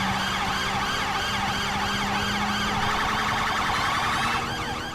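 A police siren in GTA V wails continuously and loudly, its rising and falling tone cycling without pause and no talk over it.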